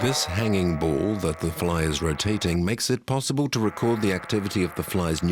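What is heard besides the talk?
No distinct noise like a dog, phone or traffic.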